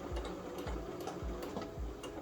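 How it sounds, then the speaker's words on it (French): A sewing machine stitching a dart in fabric, running in a steady mechanical tick-tock rhythm of about four regular thumps, close and alone without talk. "vous traversez juste cette petite partie à la machine"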